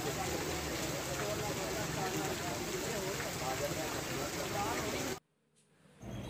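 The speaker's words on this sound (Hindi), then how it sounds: "काफ़ी यहाँ पर बारिश हो रही है" Steady heavy rain pours down, a dense hiss of drops on surfaces that cuts off abruptly near the end.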